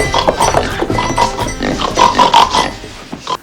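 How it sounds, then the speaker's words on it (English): A pig oinks and grunts in a steady run of loud, close snorts over a busy background that sounds like a film soundtrack, with a little voice mixed in. "introduce him to her favorite pig, Misery"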